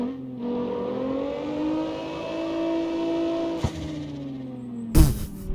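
A GTR in the CarX Street racing game does a burnout, its engine howling with a steady rising whine and tyre noise, broken by a sharp gear-shift crack and a loud burst near the end.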